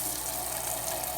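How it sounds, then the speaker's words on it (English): Tap water filling a big container placed in a kitchen sink for herbal tea, a steady hissing gush that runs unbroken and close, with no voices over it. "we're going to fill it with water"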